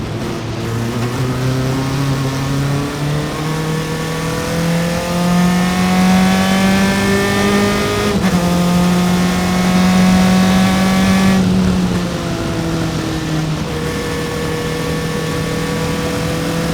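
Single-seater race cars at an SCCA IT race at Mid-Ohio roar past on track, engine notes rising and sliding in pitch as they pass close by in a loud, continuous stream.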